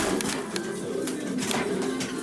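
Racing pigeons coo in a low, steady murmur, several birds close by, a soft continuous burble with faint rustling over a level background.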